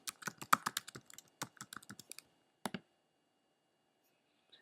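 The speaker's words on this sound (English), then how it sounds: "type in the name of the director I want to recommend next to Lars von Trier" Keys on a computer keyboard clatter in quick close bursts of clicks, a brief pause, then a short final flurry before silence.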